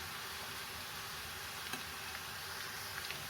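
Bitter gourd frying in a pan while being stirred, a steady dense sizzle that holds loud and even throughout with faint clicks near the end.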